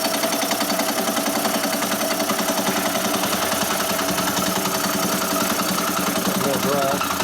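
A Kwik-Way boring bar running in second gear cuts a 1948-65 Harley panhead cylinder, a continuous rhythmic mechanical drone with a fast steady pulse at a constant level.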